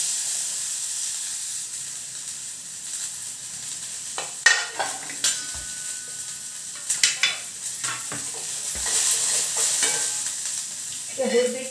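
Onions fry in a pan with a steady close sizzle, broken by scattered clatters of stirring.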